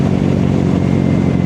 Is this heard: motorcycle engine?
yes